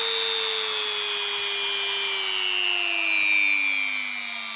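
A Vikhr G-160GV rotary engraver, a light drill-style tool, runs steadily with a continuous high whine and motor hum that slowly drops in pitch, loud and close throughout, with no talking.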